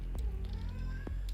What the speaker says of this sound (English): Oops, that's my cat.